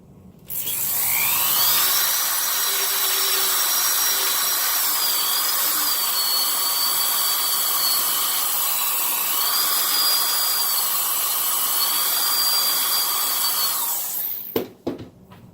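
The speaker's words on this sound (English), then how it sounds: "I'm increasing the size of the cut, not by using a bigger drill bit, but by twirling this around" A high-pitched rotary drill whines steadily for about thirteen seconds, its pitch wavering slightly as the bit is twirled to enlarge a hole, then stops abruptly with a clatter.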